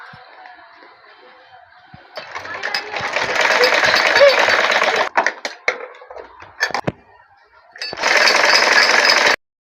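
A sewing machine stitching a trim strip onto a child's suit, running in two loud sustained bursts separated by a pause with clicks and handling noises.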